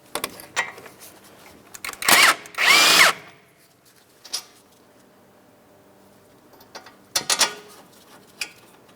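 A power tool removes a caliper bracket bolt on a Chrysler Town & Country, giving two short loud whirring bursts, then quieter ratcheting and clicking bursts near the end, with no talking.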